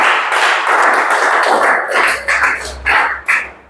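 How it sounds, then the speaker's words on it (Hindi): Hands clapping in a classroom, a burst of scattered applause with irregular claps running throughout, fairly loud and close, with no talking over it. "ताली बजाओ खूब तमाशा के"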